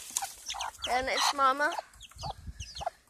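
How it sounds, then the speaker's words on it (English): Chicken clucks from two baby chicks and a rooster kept among backyard farm animals, repeated calls rising over a person talking nearby. "next I'm gonna show my two baby chicks and the rooster."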